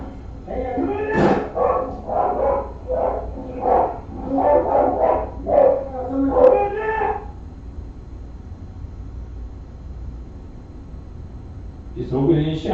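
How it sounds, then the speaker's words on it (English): A dog barks in a quick run of repeated sharp yaps and woofs, loud and close, then goes quiet before another burst; a person talks nearby. "That dog again."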